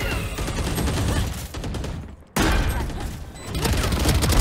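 Rapid gunfire from the Valorant first-person shooter game crackles in dense bursts, loud and continuous, cutting out briefly before a sharp burst resumes the shooting.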